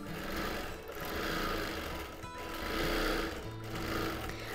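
A sewing machine runs steadily while free motion quilting a feathered border on a wholecloth quilt, a fast continuous needle whir that swells and eases in speed, close and alone without speech.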